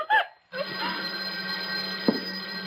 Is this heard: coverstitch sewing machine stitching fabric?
no